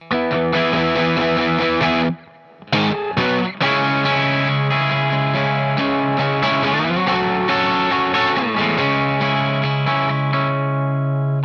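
A distorted electric guitar plays the bridge: a loud held chord, a brief break, choppy accents, then long, sustained ringing chords that shift slowly.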